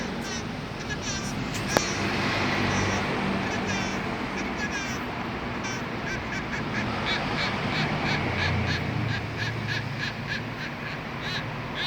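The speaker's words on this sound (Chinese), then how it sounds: "水泵浦所发出来的声音" A removed Toyota Wish water pump that caused a belt-area noise at cold start is spun, giving a harsh squawking, grinding squeal in rapid rhythmic pulses, close by, with someone talking at points.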